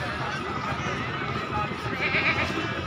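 Goats bleating at a busy livestock market where Makhi Cheeni breed goats and kids are sold, with a steady crowd din and people talking throughout.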